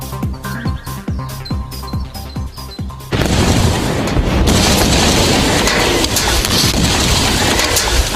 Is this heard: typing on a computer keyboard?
no